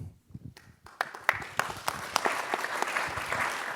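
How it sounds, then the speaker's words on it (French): Conference audience at the French Assemblée nationale applauding the speakers, starting with a few scattered claps that quickly build into steady, full applause from the hall. "on va encore continuer à applaudir nos orateurs"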